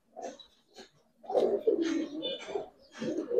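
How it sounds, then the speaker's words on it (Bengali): Female racer and Giribaz coloring pigeons coo close by in a loft, two short soft calls followed by longer rolling coos. A faint voice may be mixed in. "তিনটে মাদি কবুতর"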